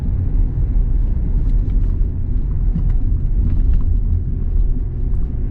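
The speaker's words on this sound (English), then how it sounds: "as we drive through yet another village in Derbyshire" A Rover 75 driving through a Derbyshire village, heard as a steady low engine and road rumble from inside the car, loud and continuous with faint clicks over it, with no voices.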